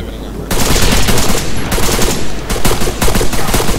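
Sustained automatic gunfire in the military shooter ArmA 3, a loud, dense rattle starting abruptly after a brief quiet moment and continuing with short pauses, close and dominating the scene.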